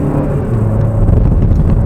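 A SsangYong XLV car accelerates briefly, its engine note climbing and growing louder from inside the cabin, with no talking.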